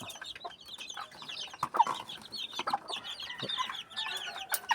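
Young chicks chirp and cluck softly in a dense, continuous chorus, close and fairly quiet with no talking.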